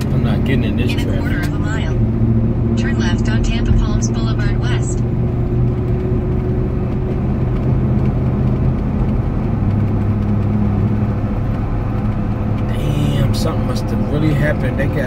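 Road traffic on a Tampa highway outside a moving car, engines droning steadily with vehicles passing close by, while a person talks throughout.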